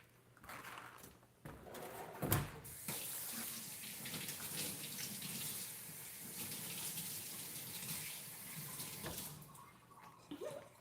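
Water runs from a tap as an item is washed under it, a steady close splashing stream that lasts throughout, with a few brief knocks and clatters mixed in.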